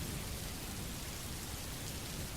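Steady rain hisses as an even wash of dense noise, with no breaks and no distinct drops standing out.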